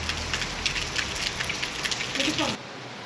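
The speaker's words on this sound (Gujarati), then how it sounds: "હવે ભાઈ વરસાદ વધી ગયો ફરીથી પાછો।" Heavy rain pours down outdoors, a dense, loud, continuous hiss and patter on surfaces, with a voice talking briefly over it before the sound cuts away near the end.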